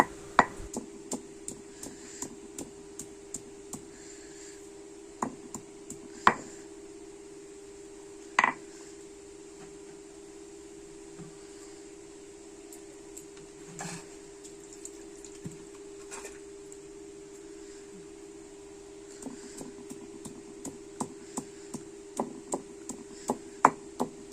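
Repeated sharp taps of crushing and pounding an ingredient for a Bengali green-coconut dish, irregular close hits scattered over a steady background hum, some strokes louder than others.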